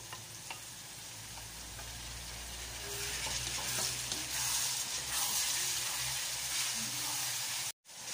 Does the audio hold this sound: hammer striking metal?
no